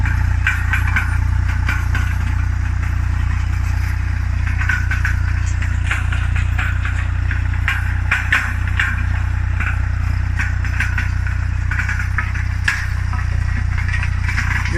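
A tractor engine runs steadily at close range while tilling an apricot orchard, a loud continuous low rumble with some rattling and scraping on top, and no one speaking.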